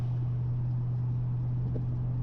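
A constant low rumble of wind and road noise fills the cabin of a moving convertible car on a drive to the shop, a steady droning hum with no voices.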